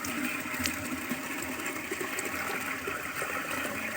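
Water drawn from a village well gushes and splashes steadily into a can, a continuous rushing pour with a hollow, churning quality.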